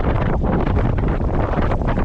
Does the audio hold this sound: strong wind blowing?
yes